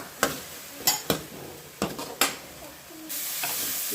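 Tomatoes sauté in a pan for pepper mushroom gravy, with a steady low sizzle broken by several sharp stirring scrapes and clinks of a spoon against the pan, close and moderately loud.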